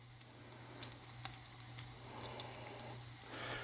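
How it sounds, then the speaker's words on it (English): Bacon slowly frying and rendering its fat in a pan gives off a faint, steady sizzle with soft scattered pops and ticks, heard alone without any talk. "as you can see, our bacon is slowly but surely rendering down"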